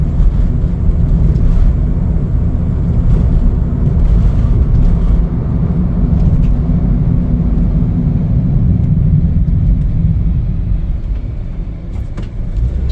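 Interior drone of a 2017 Chevrolet City Express LS cargo van on the move, a loud continuous low engine and road rumble that holds steady while gaining speed, easing slightly at the end.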